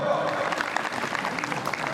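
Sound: audience clapping at a temple dayro

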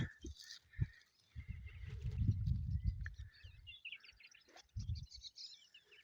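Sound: birds singing

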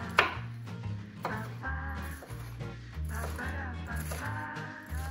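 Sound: chopping bell pepper into small cubes

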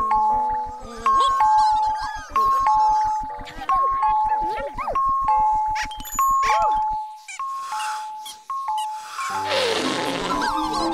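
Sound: ding dong alarm chime from In the Night Garden

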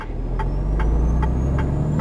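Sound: Freightliner Cascadia truck engine, American Truck Simulator video game

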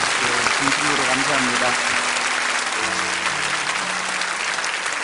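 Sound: audience applause in church service

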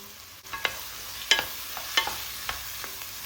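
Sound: tomato paste and tomatoes sizzling in a pan

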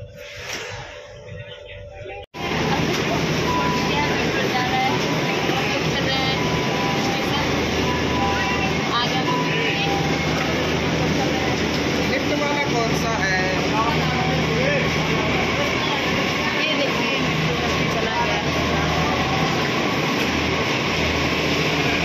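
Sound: Delhi metro train riding

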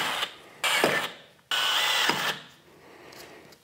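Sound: drilling hole with pilot drill bit

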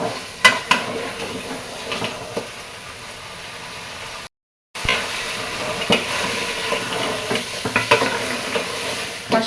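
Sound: goat head meat cooking in a pan

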